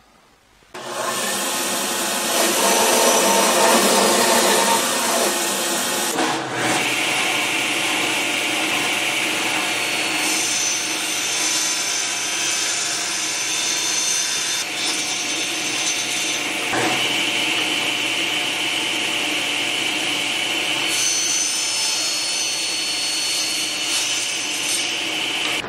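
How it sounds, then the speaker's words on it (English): Sawing wood to rough size for a small turned rocket Christmas ornament, a continuous loud rasping cut running steadily throughout with no talking. "I'm going to go ahead and cut my wood down to the general right size"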